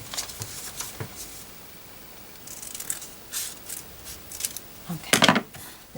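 Scissors cut fabric for a cushion boot pattern: sparse, quiet snips and clicks spread out, with a sharper, louder cluster of cutting sounds near the end.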